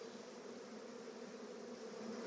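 Bees spilled from a swarm frame into a box hum in a steady, even drone close by, a dense continuous buzz with no talking.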